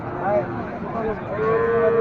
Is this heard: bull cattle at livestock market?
yes